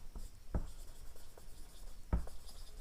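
Pen strokes write out an English translation in quick, scratchy runs broken by a couple of sharper taps, close and fairly quiet with no talk.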